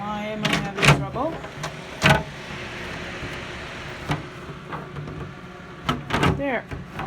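Plastic clicks and knocks as the door is fitted onto an Excalibur food dehydrator, a few sharp close snaps spread across the span over a steady fan hum, with a person talking in between.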